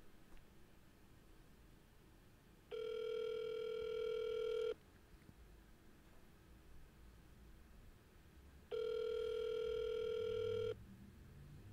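A telephone line rings out on an outgoing call, two long steady electronic ring tones separated by a few seconds of quiet, clear and close with no voices.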